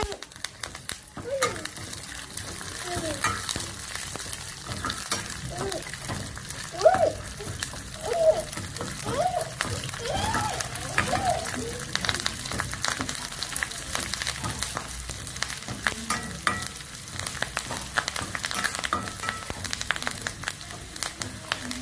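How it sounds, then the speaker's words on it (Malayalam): Curry leaves frying with browned onions in a pan give a steady, moderate sizzle with crackling and stirring scrapes, while a voice talks faintly underneath at times. "ഉള്ളി ഏകദേശം ബ്രൗൺ കളറായി. അപ്പൊ നമുക്ക് ഈ കറിവേപ്പില അതിലോട്ട് ചേർക്കണം."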